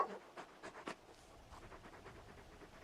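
Quick breathy panting from Torgal, the large wolf-like hound in the video game Final Fantasy XVI, coming as a short run of soft rhythmic huffs close up, fairly quiet, with no talk over it.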